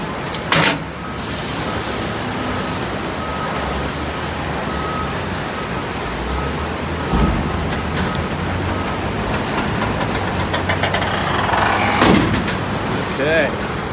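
A truck-pulled dump trailer's bed being lowered after unloading on a construction site, the engine running in a steady low drone with a hydraulic hum and occasional clunks, while people talk nearby.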